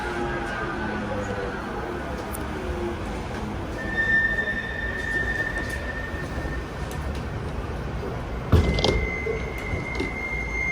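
Steady rumbling of a tram in motion heading to Bury interchange, with metallic wheel squeals and a brief clunk partway through, all at a moderate, continuous level.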